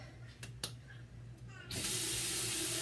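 Warm water running from a bathroom tap during a skincare face wash, opening with a few faint clicks and splashes, then a sudden loud, steady hiss of flowing water for the last second or so.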